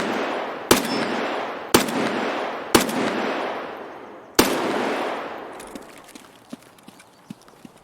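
Gunfire in the shooter game Escape From Tarkov: four loud, sharp shots spaced about a second apart, each ringing out in a long fading echo, followed by faint clicks and handling noises.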